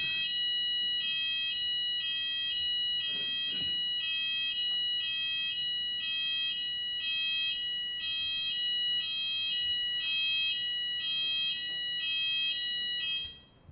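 A test fire alarm in a council meeting room beeps in a steady run of evenly spaced, shrill electronic pulses, loud and continuous with no talk over it, then cuts off abruptly at the end.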